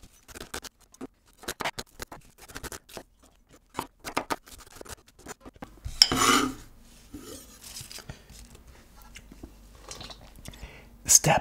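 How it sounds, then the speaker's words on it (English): Onions being chopped with a knife on a cutting board for Bolognese sauce, quick irregular taps and scrapes of the blade, with a brief louder scraping burst midway and a voice talking at times. "When I cut the onions, I will make a bit faster"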